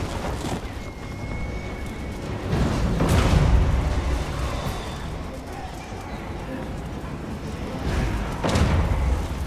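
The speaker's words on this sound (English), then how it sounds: "That's fine on the cannon fire" Cannon fire in the Total War: Warhammer video game, heard as heavy low booms and thuds rolling through a dense battle din, with a couple of louder blasts spaced several seconds apart.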